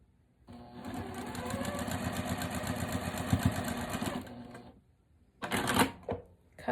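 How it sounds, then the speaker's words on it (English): A sewing machine stitches quilt fabric pieces together in a steady, continuous run of rapid needle strokes for about four seconds, then stops, followed by a short burst of handling noise. "lay it right sides together with my fabric D rectangle, and sew those 2 together"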